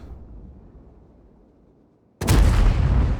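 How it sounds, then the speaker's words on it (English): A single heavy cannon shot from an ST-I heavy tank in a tank battle game bursts loud and close after a faint low rumble, its roar sustaining to the end. "Does get a shot into that Type 4 Heavy"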